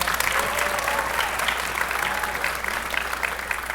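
Audience applause at a high school spring orchestra concert, steady dense clapping from a crowd filling the room, continuous and even for several seconds with no talk over it.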